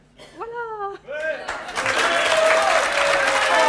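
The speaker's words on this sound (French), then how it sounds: "On peut l'applaudir très très fort." Audience applause at a live stage show swells in after a couple of brief whistle-like tones, building into steady, loud clapping that fills the room through to the end.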